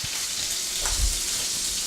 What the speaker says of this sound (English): I'm going to fry the shrimp